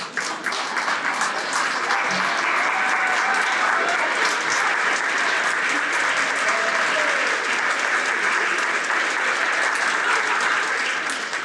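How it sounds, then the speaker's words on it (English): A luncheon crowd at a Habitat for Humanity women's build event applauds at length, a thick continuous wash of clapping with faint cheers and a few voices underneath. "we could just all thank each other and a little applause on there"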